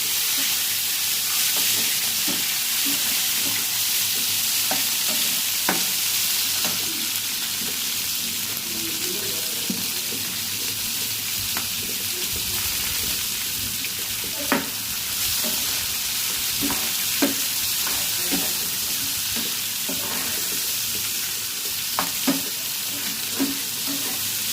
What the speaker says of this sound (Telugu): టమాటాలు వేసుకుంటున్నాను.